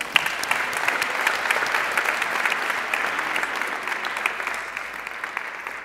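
Audience applause at an awards ceremony for women in business, sustained dense clapping from a crowd that stays full for several seconds and then thins slightly toward the end, with no talk over it.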